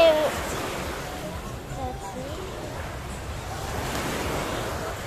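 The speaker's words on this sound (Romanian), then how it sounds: "Și acum o să vă arăt cum sunt valurile de mare." Sea waves on a Greek shore wash in a steady, broad roar with wind buffeting the microphone, a surge swelling toward the end; a voice is faintly present.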